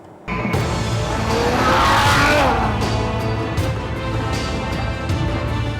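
2011 Ferrari FF accelerating hard, the engine note rising in pitch and swelling to a loud peak before settling into a sustained high-revving roar, close and without talk.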